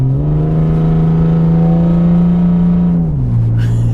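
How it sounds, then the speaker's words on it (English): Loud, steady exhaust drone from a BMW 325xi accelerating on the highway, holding one pitch, then dropping briefly near the end as if shifting gear before pulling on. "I actually really enjoy the exhaust note from this."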